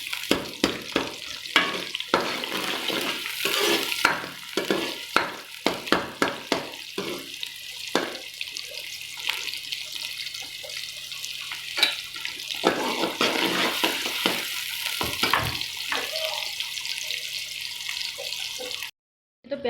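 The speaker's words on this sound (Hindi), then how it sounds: "तो प्याज यहाँ पे हो रहा है फ्राई।" Onions fry in hot ghee with a steady, loud sizzle, while a spoon stirs and clatters against the pan in frequent close strikes throughout, cutting off abruptly at the end.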